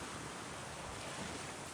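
Strong wind on a shore in Norway or Denmark, where windfoiling is underway, roars as a broad, constant rush of noise, buffeting the microphone with no voices.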